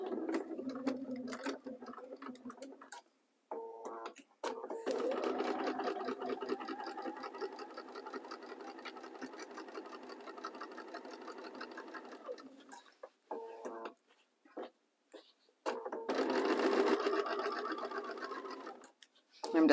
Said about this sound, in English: I'm just going to go ahead and just do a straight stitch, stitching in this pocket.